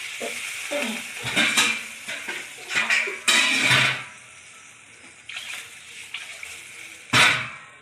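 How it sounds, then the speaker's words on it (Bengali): Water poured into a cooking pot of potato and fish curry, with bursts of splashing and pot clatter between quieter pauses, close by. "এই যে এখন আমি জল ঢেলে দিচ্ছি।"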